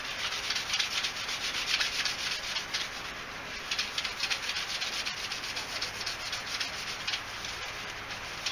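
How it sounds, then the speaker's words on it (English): A surface is sanded by hand with 100 grit sandpaper, giving a steady, rhythmic, close scratchy rubbing that carries on at a fairly quiet level with no voices. "100 grit to get this good buffing."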